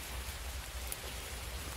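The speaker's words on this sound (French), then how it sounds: "La pluie est là de plus belle." Steady rain falls in a forest, a dense even hiss of drops on leaves and ground that stays constant from start to finish, with no talking.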